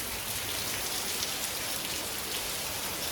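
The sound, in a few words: rain falling while the sun shines, at a forest temple in Luang Prabang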